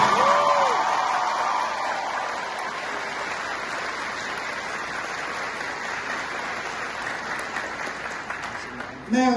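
An audience at a speech breaks into sustained applause, dense clapping that stays loud and even for several seconds, with a brief bit of cheering near the start and a voice returning at the very end.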